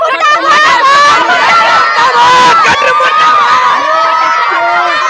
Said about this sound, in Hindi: ये आपकी शिक्षा नीति का कमाल है कि बच्चे रोड पर आ गए हैं और धरना प्रदर्शन कर रहे हैं